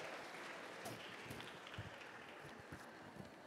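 Fairly faint applause from an audience for high school students at a sustainability and future-technology student event, with a dense, steady patter of clapping.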